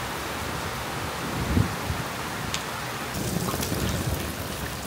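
Rain falls steadily over a rooftop garden as an even, continuous hiss, with a few faint scattered taps.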